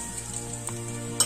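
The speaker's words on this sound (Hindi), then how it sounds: "अब हम अपनी कढ़ाई में ये गुड़ डाल देते हैं और इसको अच्छे से चला देते हैं जब तक हमारा गुड़ मेल्ट ना हो जाए" Jaggery melts in a wok for ghee-free laddus, giving a faint sizzle with soft scraping as it is stirred, ending in a brief metallic clink near the end.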